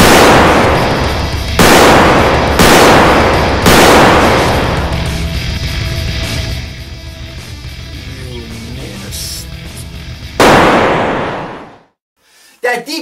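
Staged gunfire effects for an amateur action film: several loud, sharp shots cracking out at irregular intervals, each followed by a long decaying reverberant tail over a steady noisy bed, ending in a final blast and sudden silence.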